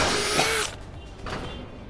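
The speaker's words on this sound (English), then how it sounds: "just using a 3mm drill bit," A power drill with a 3mm bit bores a hole through a metal shed gutter, with a steady close whine that cuts off partway, then a fainter second burst of drilling follows.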